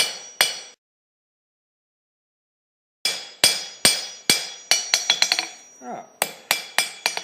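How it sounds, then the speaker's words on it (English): Hammer blows ring on steel while bevels are forged into a cheese knife blade: one isolated strike, a pause of silence, then a rapid series of sharp metallic clinks with ringing decay, close and loud. "So now we're going to hammer in these bevels."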